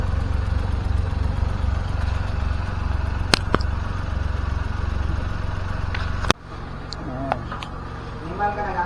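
A Suzuki DA64V minivan engine idles with a low, even rumble, then a sharp click shifts the tone slightly; voices talk intermittently over it.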